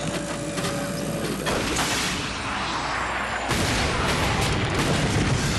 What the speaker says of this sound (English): going to try to hit that target with the Devastator, a rocket launcher designed for Ratchet and Clank